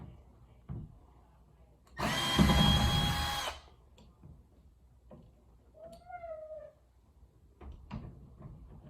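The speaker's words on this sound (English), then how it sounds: "How you do it is take a drill." A power drill whirs loudly for about a second and a half while a closet door handle is being replaced, then faint knocks, small clicks and a brief squeak follow in a quiet room.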